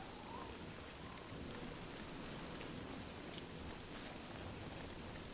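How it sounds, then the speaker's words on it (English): Rain falls steadily in the Oblivion video game, a soft, even hiss of drops with a faint low rumble beneath, continuous throughout and without voices. "I wish it was not raining, though."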